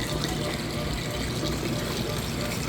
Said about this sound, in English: You can hear it draining that water out.